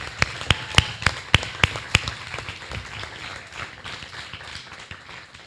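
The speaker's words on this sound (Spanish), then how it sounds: "Entonces, un aplauso para Tatuí." A small audience applauds for Tatuí at an anniversary forum, opening with several sharp separate claps in a loose rhythm, then thinning into softer scattered clapping.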